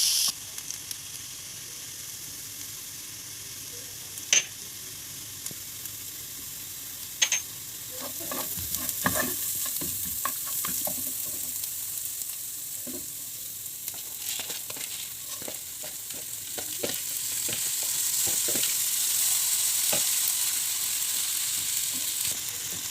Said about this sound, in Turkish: Soğanımızı da biraz kavuracağız.